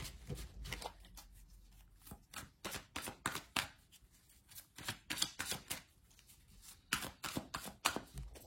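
Oracle cards being shuffled and drawn by hand: a close series of crisp papery slaps and riffles in uneven bursts, with soft rustling between them and no talking.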